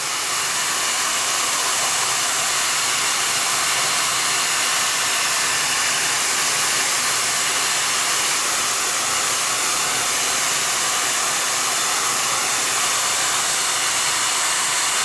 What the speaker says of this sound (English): So I'm going to blow dry these.